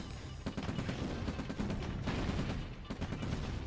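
Gunfire and incoming rocket impacts in a real-time strategy game battle, a continuous rattle of sharp shots and thuds at moderate loudness, with several heavier hits spaced through the stretch.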